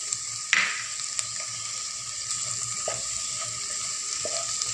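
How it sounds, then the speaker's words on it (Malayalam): Onions sautéing in a pan with chili powder for a soya chilli dish give a steady sizzling hiss, broken by a few sharp spoon clinks and scrapes, close by with no speech. "ഇതിൻ്റെ പച്ചമണം പോണ വരെ ഇതൊന്ന് വഴറ്റുക."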